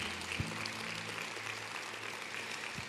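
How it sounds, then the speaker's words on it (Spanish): A church congregation gives faint, even applause, a soft wash of many hands in the distance with a low hum underneath. "¿Alguien le puede dar un aplauso al Señor?"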